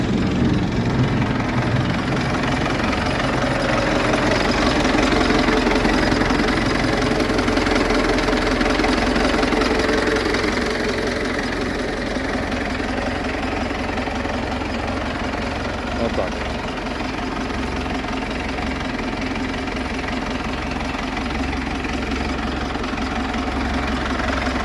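A tractor's steady, low engine idles throughout, a rumbling drone with a slight knock that eases a little partway through, while an OLIMP-2000 front loader works.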